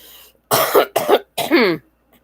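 Three harsh, close coughs from a person sick with COVID-19 in quick succession, each a short explosive burst, followed by silence.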